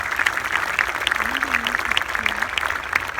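An audience applauds at a tribute gathering, a dense, even wash of many hands clapping while a voice carries faintly over it.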